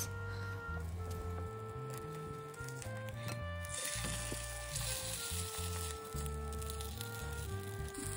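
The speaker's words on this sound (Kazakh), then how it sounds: "Тура видеодағыдай осылай қуырып аламыз" Bread topped with cheese and ketchup frying in a pan gives a soft, steady sizzle beneath prominent tonal background music, with faint scrapes now and then.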